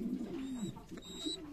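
A young pigeon squab resting on wood-shavings bedding in a box at a rural farm pen makes thin, repeated peeping calls with soft cooing tones, close and fairly quiet, with no talking.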